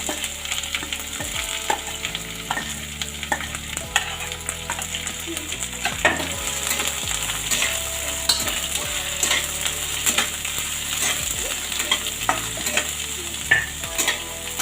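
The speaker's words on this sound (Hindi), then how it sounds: "सारी प्याज इसमें हम ऐड कर देंगे" Chopped onions for besan gatte curry fry and sizzle steadily in hot oil, with a spoon repeatedly stirring and scraping the pan throughout; close, continuous and without talk.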